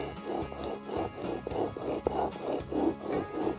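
Bow drill spindle grinding into a wooden board, a rhythmic, raspy back-and-forth rubbing of about eight strokes, close and moderately loud, with no voices.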